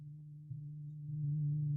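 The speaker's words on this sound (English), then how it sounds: "I'm pretty much hearing a sine wave." A steady low electronic tone with its harmonics filtered away hums almost like a pure sine wave, holding constant and growing slightly louder toward the end.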